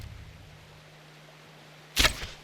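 A bow loosed at an animal during a hunt in Red Dead Redemption 2: a quiet stretch of low ambient hum, then one sharp near twang and whoosh of the arrow, with a short softer thud after it.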